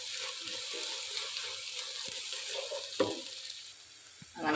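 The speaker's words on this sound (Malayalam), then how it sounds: "ഇപ്പോൾ അതാ സവാളയൊക്കെ ഇങ്ങനെ മൊരിയുണ്ട്" Sliced onions sizzle and crisp in a frying pan, a steady hiss throughout with a few soft clicks and scrapes of a utensil, no talking.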